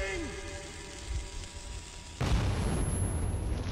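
A frag grenade goes off in Metro 2033, a sudden loud blast that cuts in partway through and leaves a dense, rumbling roar behind it. Lighter game sounds come before the explosion.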